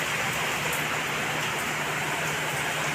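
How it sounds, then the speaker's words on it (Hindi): A heavy nighttime downpour makes an unbroken, loud wash of hissing rain close by, with no voices. "बहुत ज़ोर की बारिश हो रही है"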